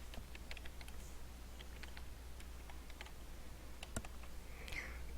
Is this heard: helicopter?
no